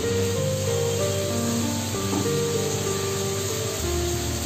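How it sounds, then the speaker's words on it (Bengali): Spices, ginger and green chilli paste frying with vegetables in a pan for spicy semolina, giving a steady loud sizzle and hiss that runs throughout without pause, close up, with no voices. "সবজিগুলোর সঙ্গে ভালোভাবে মশলাটা কষিয়ে দিই।"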